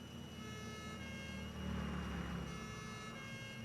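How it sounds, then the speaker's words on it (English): A vehicle siren in the video game Satisfactory wails at a distance, faint and steady beneath a droning engine hum, swelling slightly midway. "Luckily I had my siren on."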